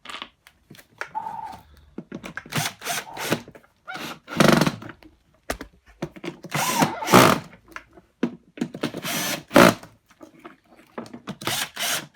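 A cordless power drill backs screws out of a Numatic Henry vacuum cleaner in short whirring bursts, with clunks and handling knocks between them at close range.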